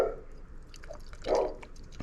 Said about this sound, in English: I'll take the boiling water from the kettle and we'll pour a little here in the jar